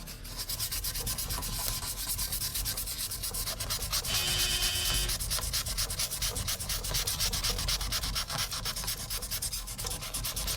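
Sandpaper rubs back and forth across a tarnished spot on a saxophone in a continuous, close, steady scratchy hiss with a quick regular stroke rhythm and no pauses.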